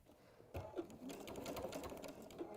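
A sewing machine stitches along the fabric binding of a tablet cover, a steady mechanical whirr that starts after a quiet half-second and runs continuously at moderate, close-up level.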